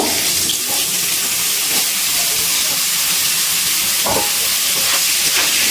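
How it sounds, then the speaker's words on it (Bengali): Cauliflower pieces, already salted and coated in turmeric, fry in hot oil with a loud, steady sizzling hiss that continues throughout and has a brief crackle near the end. "এবার এই তেলের মধ্যে ফুলকপিগুলো ভেজে নেব"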